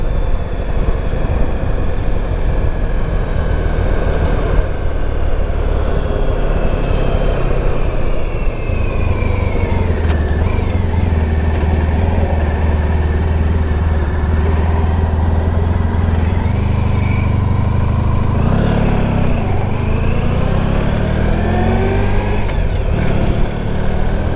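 A Honda ST1100 Pan European touring motorcycle cruises along with a steady, close engine drone under heavy wind rush, its pitch rising and falling through gear changes and throttle.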